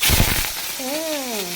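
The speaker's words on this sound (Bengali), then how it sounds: "তার মধ্যে আমি দিয়ে দিচ্ছি গন্ধরাজ লেবু পাতা ফোড়ন।" Gondhoraj lemon leaves drop into very hot white sunflower oil and give a steady close sizzle and hiss, with a brief wavering tonal sound rising over the frying midway.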